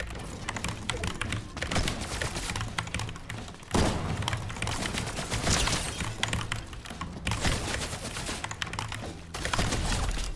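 Rapid gunfire in Fortnite crackles in dense bursts of sharp shots, steady and fairly loud, broken by a brief gap and then resuming in quick succession.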